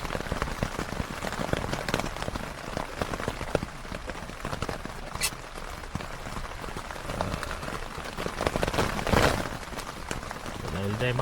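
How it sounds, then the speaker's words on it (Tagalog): Rain falling on a tent while camping on a mountain in Batangas, a steady patter of drops on the fabric with occasional heavier splashes, close and continuous, with some talking in the background. "nag-aantay tayo na medyo tumila ng konti yung ulan"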